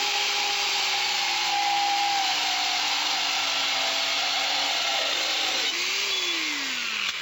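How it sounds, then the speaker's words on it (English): A DualSaw counter-rotating saw plunge-cuts straight down into steel rebar, a loud, steady high-pitched grinding whine that holds for several seconds, its pitch sagging slightly under load near the end. "I'm gonna do a plunge cut straight down."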